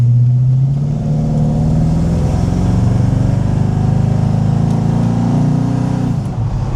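A 1939 Ford five-window steel-body coupe with an LT1 Corvette engine accelerates hard, its loud, steady exhaust roar climbing in pitch for several seconds before easing off near the end, with no talk.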